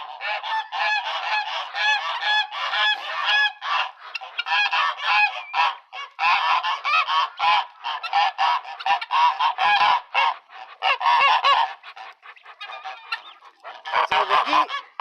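A backyard flock of domestic geese honks loudly and constantly up close, in overlapping, excited bursts with brief pauses between them. Nobody speaks.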